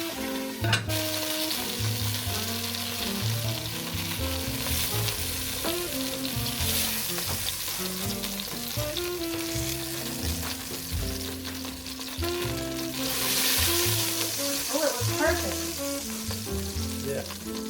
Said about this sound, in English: We're working on getting sausage nice and brown.